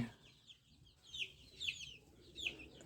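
Egyptian Fayoumi chickens, young birds being raised, cluck in a few short bursts, moderately close and fairly faint, with quiet gaps between the calls.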